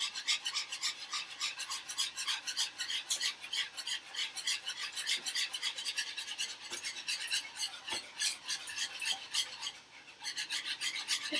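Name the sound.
whisking a mixture to keep out lumps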